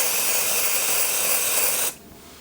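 Dry shampoo sprayed from an aerosol can onto hair roots, a loud close continuous hiss lasting nearly two seconds before it stops abruptly, with no voices.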